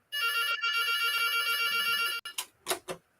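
A phone ringtone plays a bright, loud electronic melody for about two seconds, then cuts off, followed by a few short muffled knocks or handling sounds.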